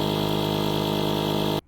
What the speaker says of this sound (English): when the stage 2 compressor kicks on, this is where the plug-in pump sounds like this